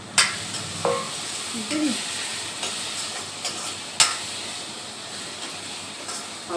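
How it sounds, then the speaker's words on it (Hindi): Green chillies and tomatoes fry in a pan with a steady low sizzle, and a spoon scrapes and stirs them at intervals, making sharp clicks. A voice speaks briefly in the background. "अब इसमें हम डाल लेंगे हरी मिर्च और टमाटर इकट्ठे डाल दिया हमने"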